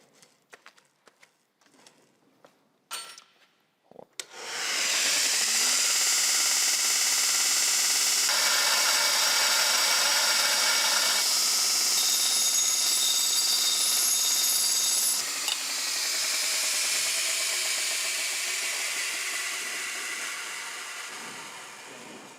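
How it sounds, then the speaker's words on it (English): An Ameribrade belt grinder spins up after a few clicks and handling knocks, then runs as a loud steady whine and rushing roar that shifts in tone partway through before slowly winding down. "It's a belt sander."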